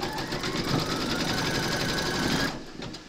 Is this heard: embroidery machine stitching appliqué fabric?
yes